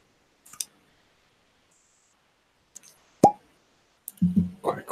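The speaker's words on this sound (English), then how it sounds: "Quite quiet, muted little pop from the bottle." A cork pops out of a Deanston whisky bottle with one sharp, muted pop after a few faint clicks, followed by soft handling sounds nearby.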